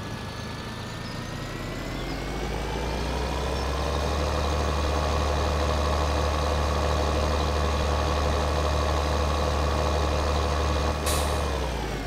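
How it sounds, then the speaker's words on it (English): A heavy tractor engine in Farming Simulator 2013 drones steadily and loudly, its pitch climbing as it revs up, then holding at a constant high hum with a brief click near the end. "Gotta love the horsepower on this tractor."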